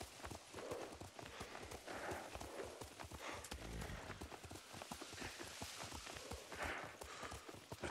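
Horse hooves clip-clopping in Ghost of Tsushima, a steady rhythmic trot running throughout, close and clear, with occasional faint voices beneath it.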